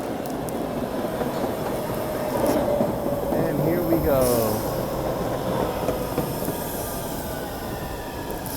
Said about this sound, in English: here comes the train. Mind the yellow platform line.